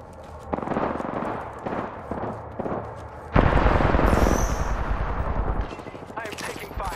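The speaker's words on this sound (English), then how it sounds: "I am taking fire, battling the enemy" Gunfire in Apex Legends: several short bursts ring out at first, then a long, loud automatic volley runs for over two seconds before tapering off into game effects, with talk mixed in.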